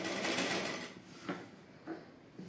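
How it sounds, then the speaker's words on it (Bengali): A sewing machine stitches a wrap trouser in a brief close-up burst of rapid whirring, followed by a couple of short, quieter stitch pulses. "তাহলে মেশিনে বসো। তাহলে এটা আমি এক ভাজে সেলাই করে নিচ্ছি।"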